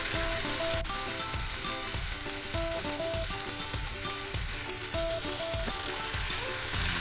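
Almond paste sizzles steadily as it fries in a pan for chicken korma, a dense, constant crackle with a melodic tune playing underneath.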